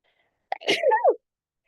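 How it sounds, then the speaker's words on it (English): A single sharp sneeze, close and loud, with a quick intake then an explosive burst, followed by silence. "sneeze."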